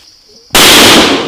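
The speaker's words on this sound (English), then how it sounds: "All of a sudden, I hear the gunshot," A single loud gunshot cracks out of near silence in the bush, hitting abruptly and hard, then decaying in a noisy, ringing tail.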